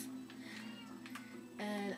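A cat in Minecraft Wii Edition meows in a short, faint in-game call near the end, over a low steady background hum.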